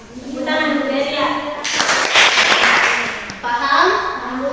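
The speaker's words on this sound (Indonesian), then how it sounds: "Jadi mau yang tepuk tangan dulu dari ya." A classroom group of teachers and students breaks into brief applause lasting about two seconds, set between stretches of talking before and after.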